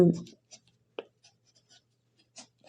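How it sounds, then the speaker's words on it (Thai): A pen writes on paper in short scratchy strokes with small gaps between them, close and fairly quiet, and a voice is heard briefly at the start. "เดี๋ยวเขียนให้ดูแป๊บ"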